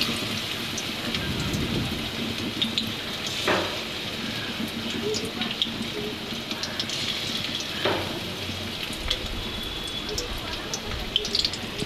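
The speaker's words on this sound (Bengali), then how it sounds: "এরপর গরম তেলে বেশ লাল লাল করে আমি পকোড়ার আকারে ভেজে" Chicken pakoras deep frying in hot oil for a chilli chicken recipe, a steady crackling sizzle with scattered pops throughout, close and continuous.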